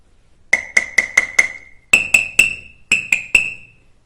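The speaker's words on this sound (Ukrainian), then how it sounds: "Так, це музичний молоточок." A toy musical hammer strikes in a children's music lesson for a younger group, giving eleven bright, ringing metallic taps close by: a quick run of five, then two sets of three, each note fading briefly.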